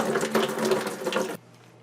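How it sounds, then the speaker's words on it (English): Vinegar pours into a 5-gallon bucket for a tankless water heater flush, a continuous splashing rush of liquid that runs loud and steady, then stops abruptly, leaving a faint low hum. "I'm going to go ahead and start pouring the vinegar in here"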